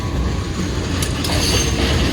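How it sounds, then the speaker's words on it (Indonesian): Bandung-based locomotive 7723 hauling a train at around 120 km/h roars past close by, a dense continuous rumble and rail clatter with a brief squeal of wheels. "Wah, 7723 lokomotif Bandung teman-teman."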